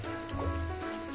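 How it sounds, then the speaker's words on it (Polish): Steady rain falls in the video game Wrongworld, giving a dense, even hiss that holds at a constant level with no speech over it. "Deszcz pada, świetnie, znowu."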